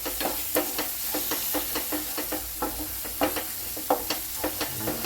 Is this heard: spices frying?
yes